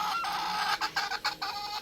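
Young White Kelso hens cluck in a series of short, quick calls, close and fairly quiet, with brief gaps between the bursts and no talk.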